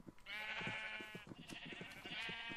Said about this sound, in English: I'm getting tired of trying to lure these stupid sheep